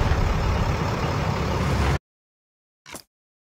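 A tank engine rumbles steadily in the Tank Company video game, loud and continuous for about two seconds before cutting off, followed by a brief faint tone.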